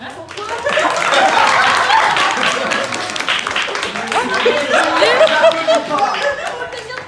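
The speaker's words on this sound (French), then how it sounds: "Et on applaudit Letty." Clapping from a small crowd at a Digimon fandub fan meetup, dense and close, with chatter and bits of laughter running underneath and over it.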